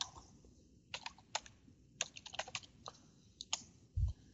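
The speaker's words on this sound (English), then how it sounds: "we will then type IPVPN enable" Keys clack on a computer keyboard as a command is entered, quiet irregular bursts of close taps with short pauses and a soft thump at the end, no talk.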